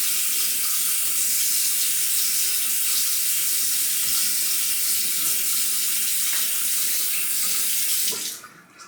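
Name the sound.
running tap water, rinsing face while shaving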